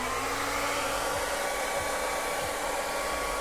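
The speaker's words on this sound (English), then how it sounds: "And where's my blow dryer?" Blow dryer on its highest heat setting drying an airbrushed Joker T-shirt, a loud steady whirring blast with a constant tone, running alone without any voices.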